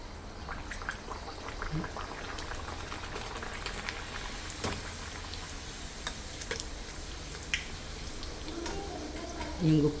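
Bhatura dough for north-style chole bhature fries in hot oil, a quiet close bubbling with scattered small pops and ticks, while a voice talks at moments over it.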